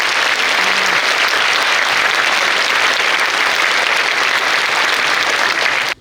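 A large audience at an alumni talk concert gives a loud, sustained round of applause in welcome, an even wash of clapping that cuts off abruptly.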